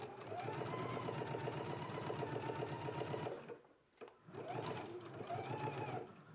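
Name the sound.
sewing machine edge stitching a pocket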